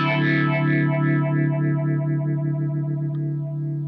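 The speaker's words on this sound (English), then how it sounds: "it will ramp up slowly to the other side and then instantly return to the other previous" Beetronics Larva morphing phaser pedal on a sustained distorted guitar note, sweeping in a rapid pulsing wobble that ramps along and snaps back, loud and alone as the note slowly fades.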